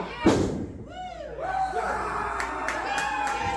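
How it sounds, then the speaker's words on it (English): Forearm strikes in a wrestling ring corner at an Elite Pro independent show, a loud thud followed by crowd noise with whoops and cheers, while a commentator talks over it. "now firing away with those forearms in the corner"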